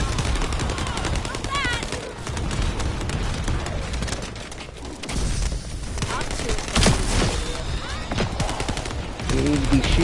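Dense video-game gunfire from The First Descendant crackles in rapid bursts and sustained automatic fire, mixed with effects and voices talking throughout.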